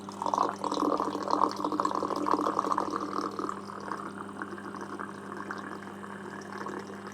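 Water runs steadily into a tank for washing black-and-white 35mm film during developing, a continuous close rushing fill that softens slightly over several seconds.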